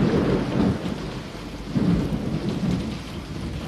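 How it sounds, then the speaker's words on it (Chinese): Heavy rain pours steadily while low thunder rumbles in two swells, one near the start and another around the middle, with no voices over the downpour. "下这么大雨"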